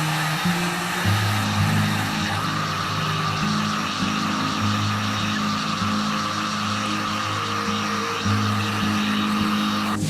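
A wooden bow being heated so a hung weight slowly bends it around a curve, with a steady, loud blowing hiss and a low droning hum throughout, no voices.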